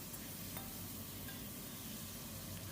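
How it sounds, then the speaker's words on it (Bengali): Chopped tomatoes frying with potatoes in an oiled pan, a steady close sizzle with light stirring scrapes, no voices. "টমেটোটাকেও ভেজে নিতে হবে"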